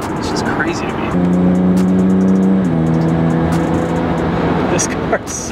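An E89 BMW Z4 with carbon fiber trim is driven fast, its engine holding a steady droning tone that shifts pitch with a gear change, heard from inside under continuous talking.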